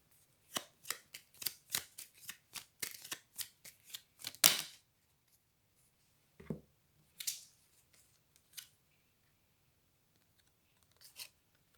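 A deck of tarot cards is shuffled close to the mic in a quick run of crisp riffling slaps, followed by a few scattered, softer card taps and flicks separated by silence.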